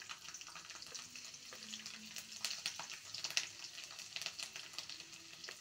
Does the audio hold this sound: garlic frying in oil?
yes